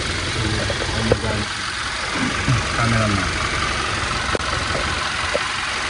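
A Toyota Fortuner LTD engine idles loudly and continuously, a low even drone with a brief spoken remark over it.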